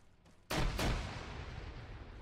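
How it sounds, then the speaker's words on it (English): Two frag grenade explosions from the video game Arma 3 go off in quick succession, loud and close with sharp onsets, followed by a long rumbling decay over low background noise. "those were just frag grenades thrown by a retard for the frag stuff"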